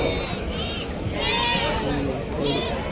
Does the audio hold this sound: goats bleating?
yes